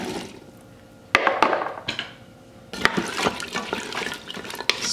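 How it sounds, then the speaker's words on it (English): Beef broth is poured into an Instant Pot holding diced potatoes for beef stew, a sudden splashing gush followed by a steady close liquid pour with stirring knocks. "I'll add in 1 more cup of beef broth"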